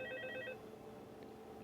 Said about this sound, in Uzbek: Doimgidek telefon bo'lyapti.